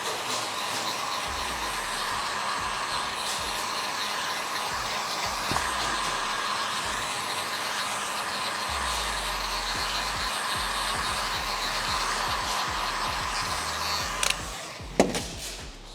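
Heat gun blowing hot air onto foam-backed boat trim during a DIY fitting, a steady whooshing blower drone held continuously for about fourteen seconds, with a few soft handling knocks near the end.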